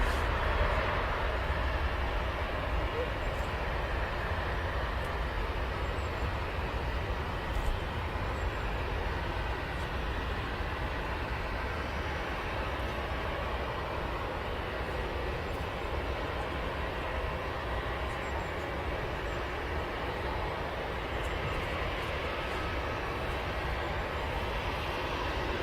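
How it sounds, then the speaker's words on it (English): An Etihad Boeing 787 Dreamliner jet at Manchester Airport produces a steady, broad engine roar that holds at a constant level for the whole stretch, with no voices over it. "This is the Etihad Dreamliner, isn't it?"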